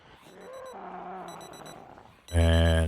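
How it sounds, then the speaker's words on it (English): Electronic alarm from the video game Project Zomboid suddenly blares loud and steady with a buzzing tone, following a stretch of quieter in-game ambience with faint repeating beeps and low moaning. "And there's my alarm."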